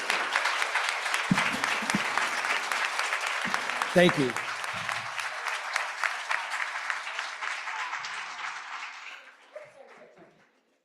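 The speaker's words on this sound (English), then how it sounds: "If you can give them a hand." Audience applause for panel guests at a talk, sustained crowd clapping that fades out near the end, with a brief spoken voice partway through.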